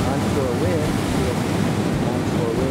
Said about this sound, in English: There's a little swell coming in. A little set. Of course, it's high tide. And it's onshore wind.